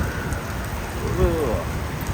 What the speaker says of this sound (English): Raining, blowing hard.